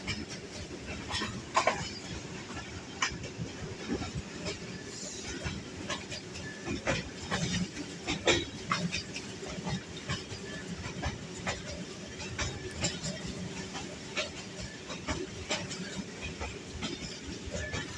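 A Pakistan Railways freight train runs through a station near Hassan Abdal, giving a steady rumble and hiss with repeated clickety-clack wheel beats over the rail joints, heard from on board, close and continuous.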